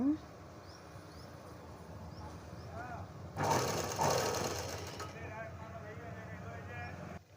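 A sewing machine stitching fancy saree cloth for a blouse runs in a short, loud burst of about two seconds mid-clip, with faint voices and quieter handling sounds around it.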